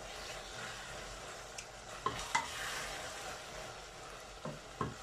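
Vegan sweet and spicy onion sambal sizzles steadily in a pan while a spoon stirs it, with a few sharper scraping knocks against the pan over the continuous frying hiss.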